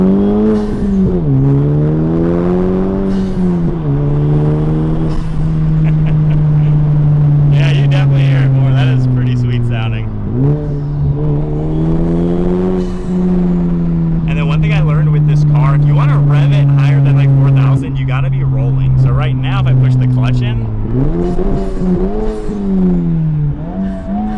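A Honda Civic Type R (FL5) with an AWE track exhaust drones and revs up and down repeatedly, heard from inside the car with windows down, the pitch rising and falling in several long sweeps.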